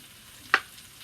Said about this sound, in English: you just kind of stir fry them a little bit, just so they're cooked